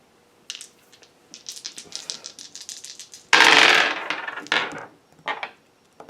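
Dice tumble and clatter across a hard surface in a tarot reading, a string of light rattling clicks building to one loud burst of rolling, then a few scattered taps.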